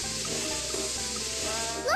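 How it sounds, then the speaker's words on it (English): A spray gun in a cartoon truck game hisses in one steady, continuous stream of airy spray, fairly loud and unbroken throughout. "Now let's take the spray gun and paint the stains."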